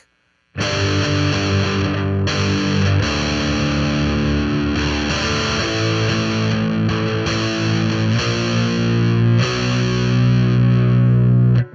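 Heavily distorted electric guitar plays the loud, sustained chorus chord progression of a song, with a few brief breaks between chords.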